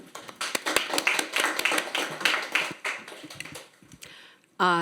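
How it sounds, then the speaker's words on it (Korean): Scattered, fairly sparse clapping from a modest audience at a policy forum on AI and data use, distinct individual claps that trail off before a voice begins speaking at the very end. "큰 박수로 환영해 주시기 바랍니다."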